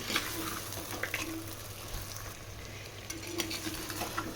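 Mutton pieces frying in a pan for a Kunda mutton dish, a steady low sizzle with occasional scraping stirs, close and fairly quiet, with no talking.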